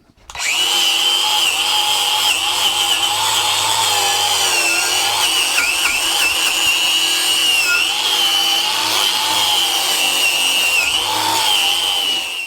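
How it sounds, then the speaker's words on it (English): A wire brush on an angle grinder whines loudly and continuously while stripping paint from an engine cylinder head, its motor held at a high, steady pitch with slight wavering, alone with no talk. "I'm going to go over that with a wire brush on the grinder"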